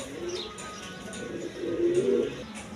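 Pigeons at a seller's loft coo in low, rolling phrases, one longer swelling coo standing out near the middle, with faint chirps and background murmur around them.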